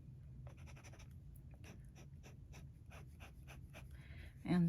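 A Kakimori glass dip nib scratches across paper, laying down a swatch of Diamine ink in a series of quiet, close, rhythmic strokes. Faint room hiss sits underneath, and a short, louder bump comes at the very end.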